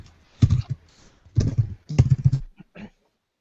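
Someone types on a computer keyboard at close range, tapping in three quick bursts of clustered clicks separated by short pauses, then a few last isolated taps.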